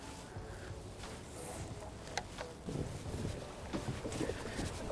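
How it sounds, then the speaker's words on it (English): Strong, gusty wind buffets outdoors on a fishing trip, a steady rough rumble with occasional knocks and splashes, fairly faint overall. "the wind is crazy today"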